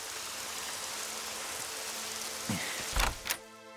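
Steady rain hisses throughout, then a couple of sharp knocks and a door-like thud interrupt near the end before the patter continues.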